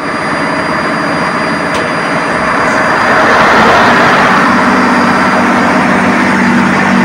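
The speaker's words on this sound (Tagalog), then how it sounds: "Napapansin nyo mga boss, ang ganda ng tunog ng aming generator pagka start, no?" A ship's generator engine runs loud and close in an engine room, a steady heavy mechanical roar that grows slightly stronger and holds constant.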